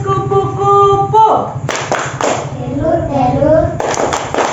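Children in a classroom chant a butterfly metamorphosis clapping rhyme together in rhythm, sharp hand claps punctuating the sing-song group voices over steady background music.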